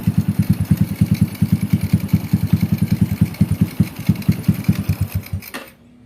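A Honda Revo motorcycle engine fired through its starter button runs in a fast, steady pulsing chug, loud and close, then cuts out abruptly near the end.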